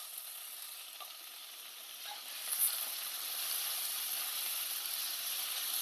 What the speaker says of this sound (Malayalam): നന്നായി ഒന്ന് വഴറ്റി കൊടുക്കാം.